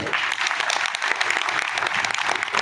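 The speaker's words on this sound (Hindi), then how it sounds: "दोनों हाथ से ताली बजा" Dense, steady applause from an audience at a block-level school education event in Sardarshahar, a broad continuous wash of many hands clapping throughout, fairly loud and close, with little talk mixed in.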